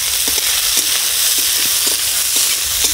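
Peeled garlic, green chili and chopped ginger frying in hot oil in a pan for an egg curry, a loud dense hiss with faint periodic stirring scrapes running throughout, no voices.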